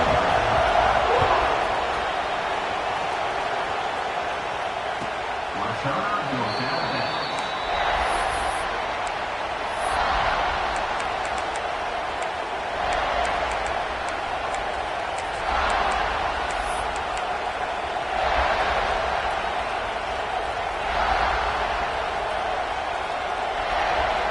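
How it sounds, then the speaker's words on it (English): A football video game's stadium crowd roars steadily throughout, a broad continuous din with swelling surges and occasional sharper bursts, no clear speech over it. "This crowd bringing the energy and noise early"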